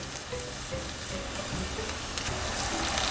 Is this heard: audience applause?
no